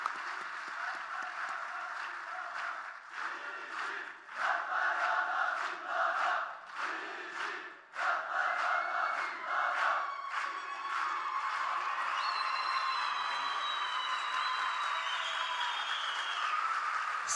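A conference crowd applauds and cheers in a hall, a sustained dense roar of clapping with shouts and whoops rising over it, holding steady throughout at a moderate distance.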